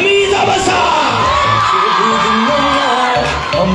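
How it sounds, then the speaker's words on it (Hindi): A crowd at a school prize distribution and brand award ceremony greets an award winner with loud, close shouting, whooping and cheering, a continuous roar of young voices. "भरपूर तालियों से इस्तकबाल कीजिए वन एंड ओनली रमीज अबसा"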